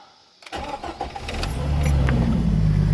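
A Jeep engine cranks briefly after a quiet moment, then fires and settles into a steady, rumbling idle, loud and close, with no voices.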